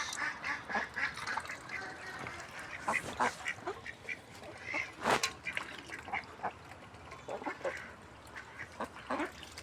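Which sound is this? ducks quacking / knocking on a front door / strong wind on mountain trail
ducks quacking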